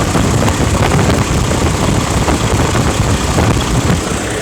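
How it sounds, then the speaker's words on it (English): An engine idles loudly and close after a blocked exhaust was cleared, a steady, rough low rumble with a slight uneven knock and no gaps, with nobody talking over it. "the engine running so freely now"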